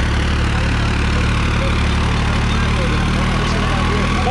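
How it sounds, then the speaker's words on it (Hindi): A New Holland 3630 Plus tractor pulling an eight-foot rotavator runs at a steady diesel drone, loud and constant, with an even low hum and no pauses throughout. "लास्ट मिनट में चल पड़ा है ट्रैक्टर।"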